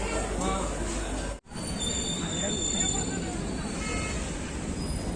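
Goods train passing a railway station, a steady broad rumble with metallic high-pitched squeals, heard amid station ambience and a brief dropout partway through.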